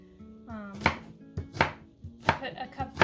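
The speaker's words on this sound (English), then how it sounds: "I'm chopping up an onion" A large onion chopped with a knife on a board, four or five sharp close thuds in an uneven rhythm, each cut ringing briefly against quiet background.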